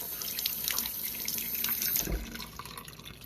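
Water pours from a tap into a porcelain sink while a cleaning tool is rinsed under it. The splashing and trickling is steady and close for a few seconds, with a brief heavier gush partway through.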